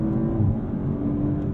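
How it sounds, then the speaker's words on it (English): An Audi RS5 Competition's twin-turbo V6 drones and revs steadily at close range, exhaust baffles open and some sound deadening removed, loud and continuous with no voices. "we also hear more from that twin-turbo V6"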